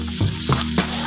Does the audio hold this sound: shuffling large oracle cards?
no